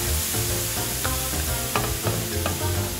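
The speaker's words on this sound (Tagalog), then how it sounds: "after putting some olive oil, we can add some garlic" Garlic frying in olive oil sizzles steadily in a pan, with a few light clicks of stirring over the continuous crackle.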